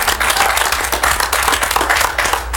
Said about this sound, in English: Let's give Mike a round of applause in the 6th seat.